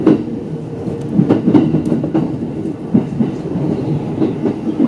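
A Utsunomiya Line local electric commuter train rumbles along at close range, with low rolling noise and occasional clacks and squeaks from the wheels.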